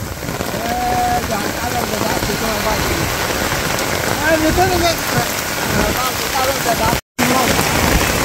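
Heavy rain pours down steadily at an open village market, a dense continuous downpour close by with a brief cut near the end.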